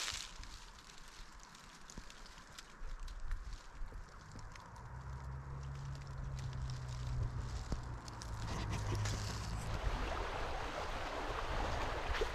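Water of Tionesta Creek flowing below an old mill where a slough rejoins the creek, a steady broadband rush heard close and fairly loud throughout, with a low rumble underneath.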